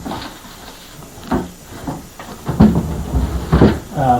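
Small wooden drawers in an old desk slide and bump shut, several uneven knocks and scrapes growing louder toward the end, close by with no talk.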